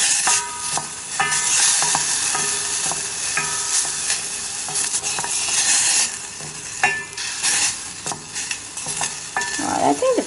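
Food sizzles steadily in a pan during oil-free cooking, a close, continuous crackle with brief clicks of stirring throughout and no talking.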